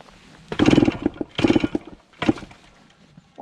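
A 1974 Yamaha MX100 two-stroke dirt bike engine revs in three rough, rattling bursts close by in a field, dropping back to a low idle between them, no talk.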